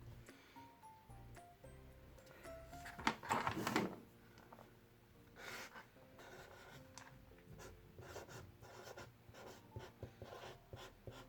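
A fountain-pen nib scratches across paper in short strokes, mostly faint and close with a louder burst of scribbling early on and soft rustling between lines.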